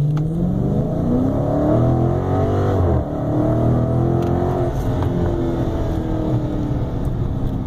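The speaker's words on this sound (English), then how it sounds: "We're going to do a quick 0 to 60 in damp conditions" A Dodge Scat Pack 392 on a damp road with new tires accelerating from 0 to 60, its loud, close engine note climbing through the revs, dropping briefly at a gear change, then rising again.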